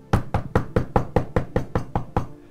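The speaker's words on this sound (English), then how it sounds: "there's a knock on the door." Ten firm, evenly spaced knocks strike a door in a quick steady rhythm, close and loud.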